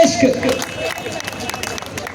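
Crowd clapping at the grand opening of a Tanishq jewellery store in Jammu, a loud scattered patter of many hands mixed with cheering and voices close by.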